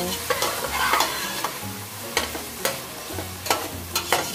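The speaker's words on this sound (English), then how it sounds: "Just saute all the ingredients." Onion, ginger and mixed vegetables sautéing for pinakbet, with steady close sizzling and repeated clacks of a utensil stirring the pan.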